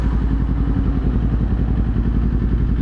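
A Kawasaki Z400 motorcycle engine runs with a loud, close, steady rapid pulsing throb, unbroken throughout and with no talking.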